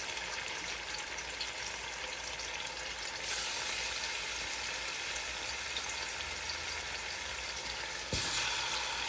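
Goat meat for Jamaican curry goat frying in a pan, giving a steady, close broadband sizzle that holds through the whole stretch and grows slightly louder partway, with no talking.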